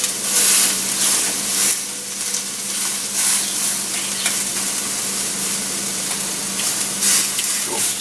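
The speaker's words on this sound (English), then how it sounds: "we got the steak burning" Steak sears in a hot pan with a loud, steady sizzle and spitting crackle that stays close and continuous throughout, with no talking.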